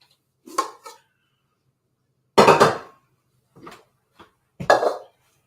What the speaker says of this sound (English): I'm just going to get a strainer out